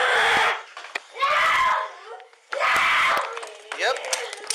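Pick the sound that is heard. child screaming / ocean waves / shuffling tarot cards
child screaming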